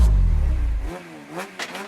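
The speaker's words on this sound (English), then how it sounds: "sets off on another run in his BMW engine Peugeot" A BMW-engined Peugeot rally car at a Walters Arena rally round sets off on its run, with a loud, close engine roar that drops away sharply, followed by fainter revving as it pulls away.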